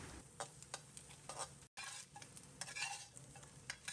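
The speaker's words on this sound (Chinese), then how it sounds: "放入切好的蒜末。 把蒜末炒出香味，" Minced garlic fries in scallion oil in a pan that still holds the grease from fried ham. It makes a close, crackling sizzle with repeated spatula scrapes and stirring taps, and there is a brief cut in the middle.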